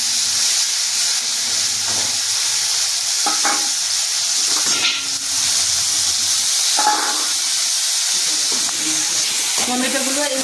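Ginger, tomato and dried red chillies fry in a pan of oil, a soft steady sizzle with occasional stirring scrapes and brief louder bursts of crackle, close and continuous.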